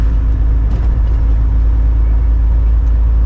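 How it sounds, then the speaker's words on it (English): Big truck engine labouring under load while driving, a loud, steady low drone with a constant rumble throughout, no talk. "Sounds like this motor is struggling"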